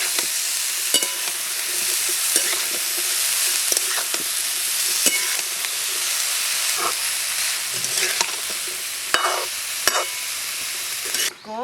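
Paina ko choo being mixed into fried spices in a pan, a loud, steady sizzle with intermittent spatula scrapes and knocks, close and with no voices.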